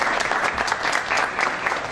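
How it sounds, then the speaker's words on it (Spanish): Sustained applause from a crowd, dense steady clapping that stays loud throughout without a break. "Entonces, démonos un fuerte aplauso."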